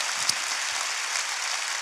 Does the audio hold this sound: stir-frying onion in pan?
no